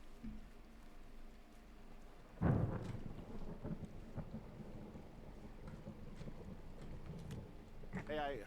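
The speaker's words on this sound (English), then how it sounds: "I heard some thunder" Thunder sounds in the forest setting of the video game Firewatch: a sudden loud rumbling crack that fades into a low, rolling roll under faint wind noise, with a brief voice near the end.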